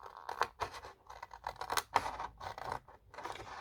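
Scissors snip through paper for a handmade card book, a series of close, crisp cuts and scrapes in an uneven rhythm with short pauses between strokes, no voices present.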